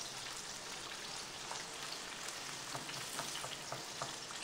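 Raw chicken frying in a pan over a medium flame, a soft, steady crackling sizzle with small pops and spatters, fairly quiet and without speech.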